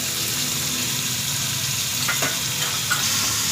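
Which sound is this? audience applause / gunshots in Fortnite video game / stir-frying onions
stir-frying onions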